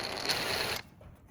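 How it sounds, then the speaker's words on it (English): A single flute countersink tool grinds against the edge of an aluminum aircraft dog bone fitting for a RANS S-21, a close, steady rasping whir lasting under a second before cutting off abruptly. "What I want to do now is hit it with my single flute countersink tool and just deburr that edge a little bit."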